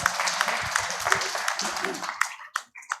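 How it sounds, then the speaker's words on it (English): An evening meeting audience gives a round of applause after a talk on water-crisis governance; dense clapping fades into a few scattered claps, with quiet voices murmuring underneath. "I would like another round of applause for our speaker this evening"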